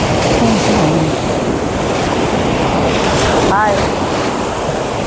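Ocean waves at Marina Beach in Chennai wash in as a loud, continuous surf roar buffeted by wind, while a voice briefly speaks and faint calls sound in the background.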